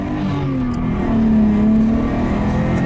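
A 1991 Nissan Skyline R32 GTS-T with stock exhaust, downpipe and test pipe, its engine droning loud and close as the revs climb and hold steady briefly.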